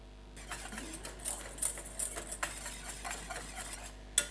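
A whisk stirring tomato sauce in a pan over medium heat, soft irregular scraping and clinking strokes with a faint sizzle underneath, close and fairly quiet, one sharper metallic clink near the end.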